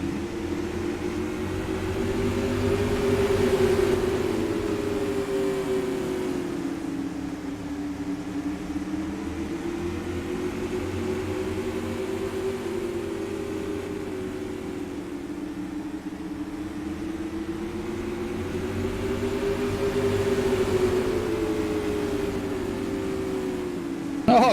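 Non-wing supermodified race cars lapping a track during a championship race, heard as a steady engine drone whose pitch rises and falls in slow sweeps as the cars circle, fairly loud, with a commentator talking over it.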